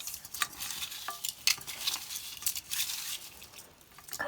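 Coarse rock salt is rubbed by hand into washed food, producing close, gritty scraping and rustling strokes in uneven bursts, fairly quiet, with no speech.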